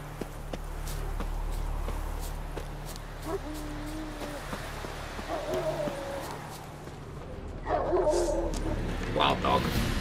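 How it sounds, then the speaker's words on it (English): A large wild dog in The Witcher 3: Wild Hunt, near an abandoned barn in the woods, gives several growling, whimpering yips and barks in bursts over ambient game sound and footsteps. "Wild dog."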